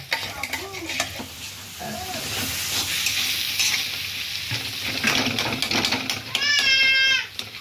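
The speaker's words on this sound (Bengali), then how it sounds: "চলো ওটা ভালো করে কষিয়ে নিই" Potatoes frying in spiced masala in a pan, sizzling steadily while a spoon stirs and scrapes, with children's voices and someone talking nearby.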